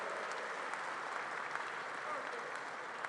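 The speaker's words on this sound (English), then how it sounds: "So let's give her a round of applause." Continuous applause from a political rally crowd in Pennsylvania, dense and steady clapping throughout, heard at a moderate distance.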